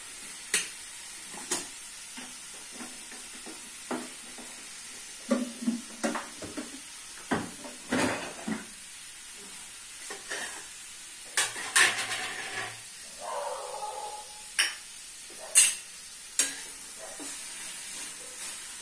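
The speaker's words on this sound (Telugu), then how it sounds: "ఈ క్యాప్సికమ్ ఫ్రై అవుతూ ఉంటుంది" Capsicum frying in a pan, with a steady soft sizzle broken by repeated clinks and scrapes of stirring throughout, fairly close and with no voices.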